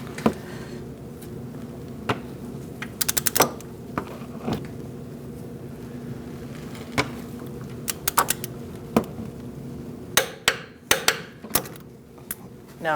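A torque wrench tightens the front wheel hub bolts to 96 foot-pounds on a 2004-2012 Chevrolet Colorado. Sharp, close metallic clicks come singly and in quick clusters over a low steady shop hum.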